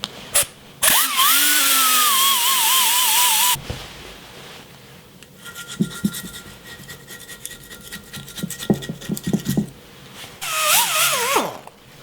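Power tool fitted with an abrasive pad scrubbing grime off metal, loud harsh whirring and rasping in bursts that start and stop, with scraping and tapping between passes, heard close up and without talk.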